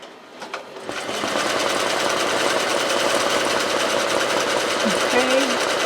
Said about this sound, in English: I'll let you see it stitching for a couple seconds there